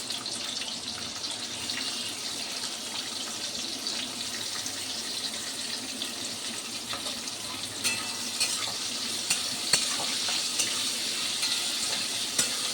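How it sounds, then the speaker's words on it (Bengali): Onion frying in hot oil with whole spices in a wok, a dense, steady crackling sizzle throughout with occasional small pops and stirring clicks, close and fairly loud. "কড়ায় তেল দিয়েছি একটু গরম মশলা ফোড়নে দিলাম আমি পেঁয়াজটা দিয়ে দিচ্ছি"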